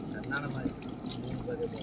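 Water is poured into a pot of meat being cooked for a home celebration, a soft continuous splashing and trickling close by, with people talking over it.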